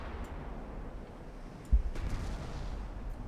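Naval gunfire in the warship strategy game Ultimate Admiral Dreadnoughts: a single heavy cannon boom lands partway through over a low, continuous rumble of battle, followed by fainter distant reports.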